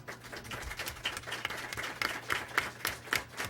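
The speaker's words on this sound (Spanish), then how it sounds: "vamos a agradecer a la doctora Lynn con un fuerte aplauso" Audience applause closing a university lecture, a steady bed of many hands clapping at moderate distance with sharper individual claps standing out, continuous through the stretch with no talking.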